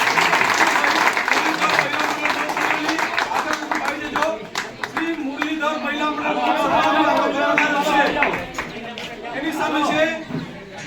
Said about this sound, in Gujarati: સન્માન માટે તાળીના ગળગળાટથી બધાને વધાવજો